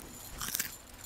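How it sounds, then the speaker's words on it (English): A carrot being bitten and chewed close to the mic at an esports casting desk, with one short burst of crunchy bites amid quiet room noise. "I don't want to hear you chewing, Owen"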